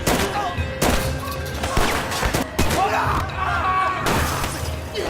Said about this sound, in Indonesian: Tembakan bacokan kacau balau dimulai.